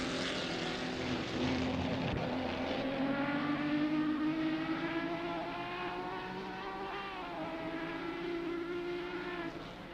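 Race cars in the GTC 60s Legends sim racing game on the final lap, a steady engine drone with rising and falling pitch as revs climb and shift, several engines overlapping at moderate distance.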